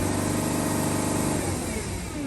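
A 2007 Freightliner Sprinter van engine with a boost leak revs hard and loud, holding a steady droning roar before easing back toward idle, close by with no talk.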